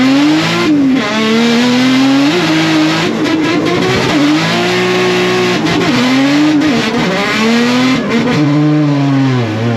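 Loud, close car engine revving hard at high pitch with rising and falling revs, straining the clutch at a French motorsport event, with brief tyre-squeal-like bursts and no talking.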